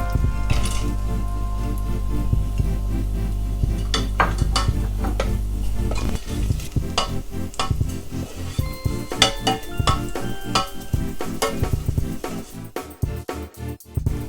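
Onions, cashews and raisins frying for tharikanji, a continuous sizzle under repeated spatula scrapes and clinks against the pan, close and loud, with a low hum easing off near the end.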